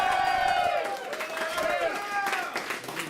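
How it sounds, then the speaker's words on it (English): A comedy club audience claps and cheers for the bar staff, a brief burst of crowd applause with whoops and excited voices mixed in. "can we get a round of applause for your bar staff tonight"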